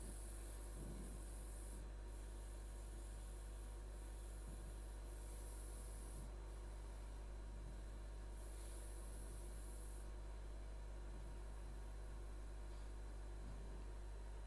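Steady, faint rubbing rasp of sandpaper rounding the edges of a wooden piece, continuous and close with slight rhythmic strokes and no talk.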